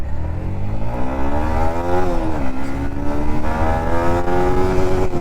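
A Yamaha MT-15 motorcycle with an assist and slipper clutch accelerates hard, its engine note climbing steadily, dropping briefly at a gear shift, then rising again, loud and close with no talk.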